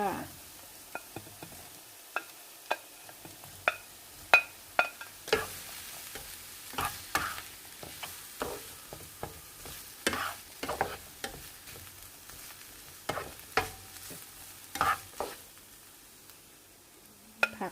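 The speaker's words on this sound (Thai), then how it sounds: "ผัดแค่พอ หอม นะคะ ใส่แฮมลงไปค่ะ" Ham stir-frying in a pan for a Finnish ham pie, with steady sizzling and frequent clinks and scrapes of a utensil stirring against the pan, close and moderately loud, no talk.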